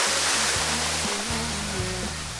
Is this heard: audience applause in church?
no